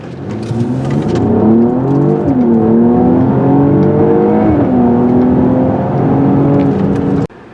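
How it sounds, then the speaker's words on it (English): A 2022 Mercedes-Benz GLE53 AMG SUV accelerating hard from 0 to 60 mph, heard from inside: engine note climbing through several gear shifts with rising whir, loud and continuous, ending abruptly. "Let's do a 0 to 60 run."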